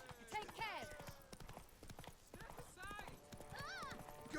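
Horse hoofbeats clip-clop at a quick gallop through a town in Witcher 3: Wild Hunt, with a whinny, shouting voices and game music over them.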